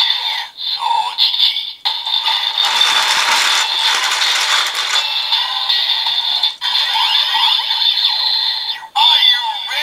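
A DX Drill Crusher toy with a vacuum cleaner bottle inserted plays its loud electronic effects: whirring mechanical spins and squeals with brief cut-offs, close and dominant, with no talk over them.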